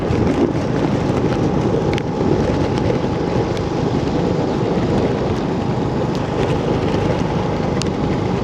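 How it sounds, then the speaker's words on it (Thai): Heavy rain pours down at a village on the Laos-Vietnam border, a loud, unbroken wash of hiss and patter with some wind buffeting the microphone. "ฝนตกหนักเนาะอยู่เวียดนามตอนนี้"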